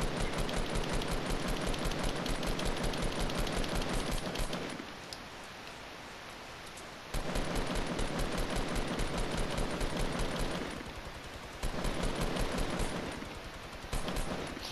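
Rapid, dense gunfire from a Fortnite battle as a player shoots apart a built base, sustained rattling volleys that drop out for a few seconds and then resume, loud and continuous with no talk.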